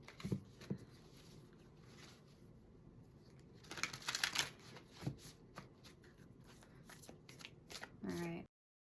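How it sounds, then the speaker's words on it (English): Oracle cards riffle and patter in quick bursts, a few louder shuffles midway, close and crisp, with faint rustling between. "That was a terrible shuffle."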